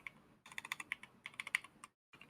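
Clicky keystrokes from a mechanical keyboard fitted with SA-profile PBT keycaps and G springs, a fast run of close, crisp taps broken by short pauses, with no talking.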